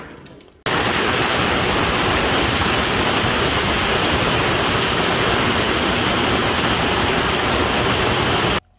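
Ultrasonic cleaner running with Evapo-Rust for heavy rust: a loud, steady, hissing roar that starts abruptly after a moment of quiet and holds unchanged for about eight seconds before stopping suddenly.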